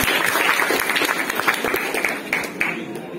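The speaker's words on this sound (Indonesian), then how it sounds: "Tepuk tangan dulu." High school students applaud a classmate during a public lecture in a school classroom, a lively scatter of sharp, uneven claps from many hands with some voices mixed in underneath.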